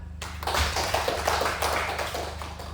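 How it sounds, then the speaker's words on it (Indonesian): Applause for a group in a classroom, a dense burst of clapping from many people that holds steady for a few seconds, with a low background hum. "Tepuk tangan untuk kelompok 1."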